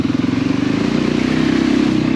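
A motorcycle engine runs steadily at close range with a throbbing idle and slight revving as the bike is ridden up a steep loading ramp into a van.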